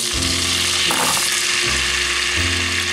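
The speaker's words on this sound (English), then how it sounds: "Now we have half a cup of butter melting in here." Half a cup of butter melting in a pot on the stove, a steady bright sizzle and crackle with a few low clunks of the pot or utensil, close and loud.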